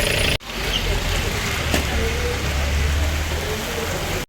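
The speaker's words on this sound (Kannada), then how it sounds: "ಯಪ್ಪ ಫುಲ್ಲು ಅಂದರೆ ಫುಲ್ಲು ಮಳೆ" Heavy rain pours steadily during a monsoon bike ride near Madikeri and Sakaleshpura, a loud, dense, continuous hiss with a low rumble underneath, starting abruptly after a brief cut and holding for about four seconds.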